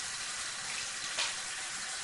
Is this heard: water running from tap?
yes